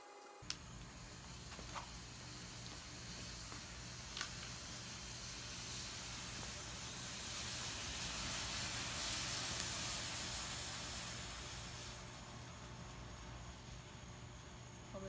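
A potassium nitrate and sugar mixture burns slowly with a steady, close hissing and sizzling that swells in the middle and then eases off, broken by a few faint clicks.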